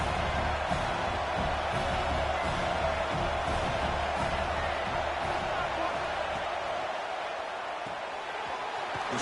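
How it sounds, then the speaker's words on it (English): Stadium crowd noise from a College Football 26 game, a steady broad roar filling the background for the whole stretch with faint cheering swells and low thumps mixed in. "Third down, and the crowd really getting into it."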